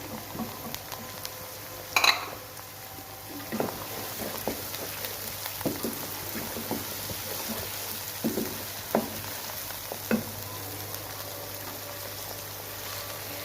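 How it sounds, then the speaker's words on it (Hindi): Four tomatoes go into a pan of hot oil with ginger and garlic for a chicken and capsicum curry. A soft, steady sizzle runs throughout, broken by occasional clinks and scrapes of a utensil against the pan. "और इसके साथ ही इसमें अब जाएंगे टमाटर। ये मैंने 4 टमाटर जो हैं वो डाले हैं।"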